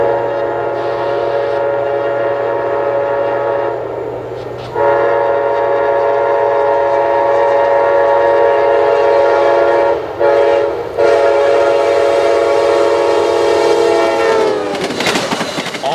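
Amtrak Northeast Regional train 95 from Boston, nearing its terminus in Norfolk, Virginia, sounds a long, loud, sustained horn blast close by, then rumbles past with rail noise at the end.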